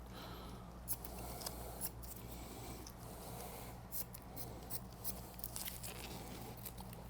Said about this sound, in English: Trim up my extra stockinette.